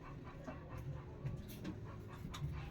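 A puppy pants softly indoors, quick, steady breaths at low volume running through the whole moment, with no talk over it.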